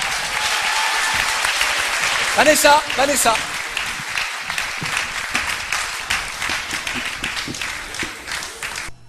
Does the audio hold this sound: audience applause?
yes